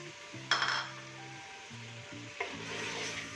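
Mutton stew sizzling and frying in a pot after tomatoes and whole chillies go in, with a spoon stirring and clinking against the metal and sharp bursts of sizzle in a steady, close kitchen sound.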